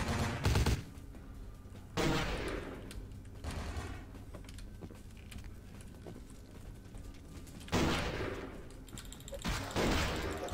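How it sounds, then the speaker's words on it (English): Shotgun blasts in a video game, several loud booming shots spaced a few seconds apart over a busy background of in-game noise. "It's a shotgun."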